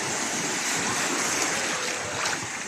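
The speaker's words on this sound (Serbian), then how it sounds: "sada talasi kao da pojačavaju." Sea waves on Paradise Beach, Thassos, Greece, make a steady broadband wash of surf, fairly loud and continuous, with no talk.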